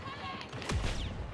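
Blaster fire from Star Wars Battlefront 2 cracks out in one sharp burst during a busy in-game battle, followed by a rougher, denser stretch of noise and no clear talking.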